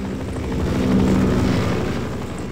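Helicopter in the video game Half-Life: a steady, loud rotor and engine drone that fills the scene with a constant low rumble, with no other sounds standing out.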